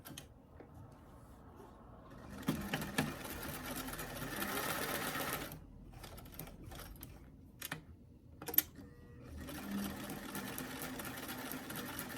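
A sewing machine stitches doll clothes in two sustained, moderately loud whirring runs, separated by a stretch of clicks and small handling knocks.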